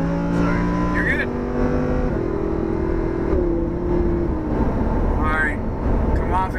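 A Lamborghini on the racetrack at Homestead Motor Speedway in Miami accelerates, its engine note climbing through rising tones and shifting gears, loud and close, with an instructor talking over it.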